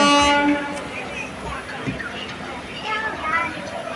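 A train sits at a station with its horn sounding, a loud sustained blare at the start that fades into a low rumble of rail and station noise for the rest of the moment, with faint voices underneath.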